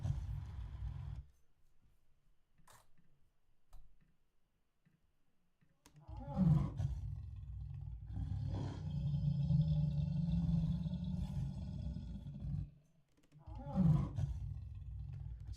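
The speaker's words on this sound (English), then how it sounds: "another thing we got here is the first sound of the dinosaur" Layered lion growls forming a Jurassic Park-style dinosaur roar: two loud, deep rumbling roars, one long and one short, after a few seconds of near silence.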